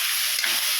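A spoon stirs ginataang kalabasa, squash simmering in coconut milk, in a frying pan. A steady bright sizzle runs throughout, with a soft low scrape of the spoon near the end.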